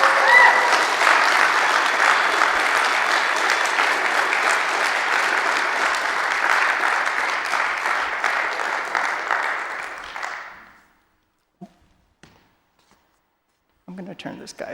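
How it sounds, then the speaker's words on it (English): Sustained crowd applause fills most of the clip, loud and even, then fades out abruptly, followed by near silence and a brief voice at the end. "But you can clap first"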